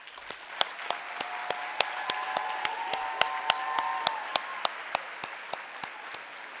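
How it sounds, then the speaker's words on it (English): Applause at a graduation ceremony, a sustained round of crowd clapping with sharp, regularly spaced rhythmic claps standing out over the steady patter, moderately distant and without talk. "let's honor these remarkable achievements with one more resounding round of applause"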